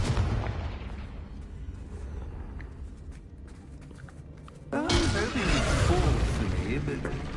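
A Confringo blasting spell explodes in a Harry Potter video game. After quieter rumbling ambience, a sudden loud, sustained roaring blast erupts partway through, and a voice is heard.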